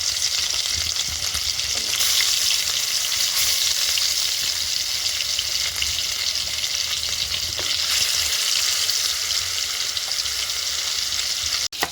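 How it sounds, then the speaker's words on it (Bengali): Fish pieces rubbed with salt and turmeric fry in hot white oil in a frying pan, giving a loud, continuous crackling sizzle throughout with no voices. "একদিকে মাছ ভাজা হওয়ার জন্য দিয়ে দিয়েছি"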